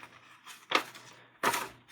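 A sheet of paper is handled roughly while folding a paper airplane, two sharp crinkling rustles close by separated by a short quiet pause, with no talking.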